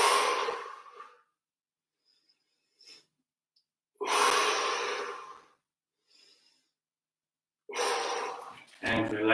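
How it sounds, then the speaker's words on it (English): Deep, slow breaths during a guided breathing exercise, three long audible inhales and exhales separated by quiet pauses, close and fairly loud. "3 more breaths in."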